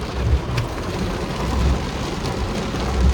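Steady rain falls around a parked car, a dense continuous hiss with a few heavier low rumbles, fairly close and loud, with no talk.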